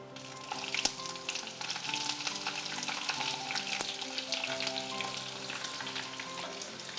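Sliced onion hitting hot oil with curry leaves in a pan, a busy continuous sizzle and crackle with a couple of sharp taps from the spoon, close and even throughout.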